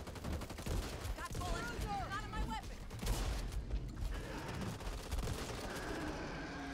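Shotgun blasts from the co-op zombie shooter Back 4 Blood ring out in a dense, continuous run of gunfire, with overlapping shots and game noise filling the scene at steady loudness.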